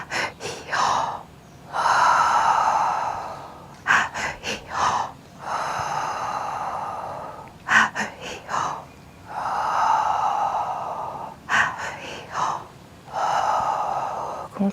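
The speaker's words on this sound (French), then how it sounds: "Et on va venir inspirer." Deep inhalations during a breathwork exercise: repeated loud, rushing breaths alternating with short sharp sniffs and gasps, close and intimate, with no talking.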